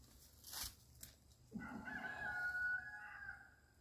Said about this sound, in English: Y'all hear the roosters?